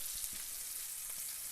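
Chilli peppers fry in a hot pan with a steady close hiss and crackle, a few soft pops and taps breaking through the sizzle.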